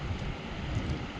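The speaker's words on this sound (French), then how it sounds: "Un vent de dingo." Strong wind blowing steadily and loudly, a dense low rumble of gusts buffeting close by with no pauses and no talk.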